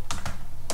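Three crisp keystrokes on a computer keyboard, two close together then one after a short pause, near and clear with no talking.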